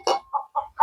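A backyard chicken clucks in four quick, close, clear notes, one slightly louder burst followed by three shorter clucks, with no voices over them.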